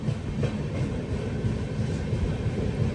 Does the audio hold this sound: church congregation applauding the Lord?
no